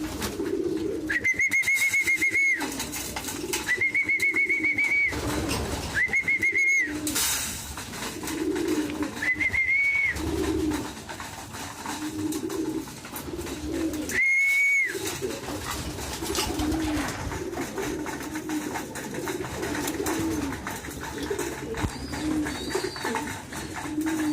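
Racing pigeons coo in a series of clear, repeated calls, several loud close bursts spaced a few seconds apart over a steady ambient background, with quieter cooing continuing throughout.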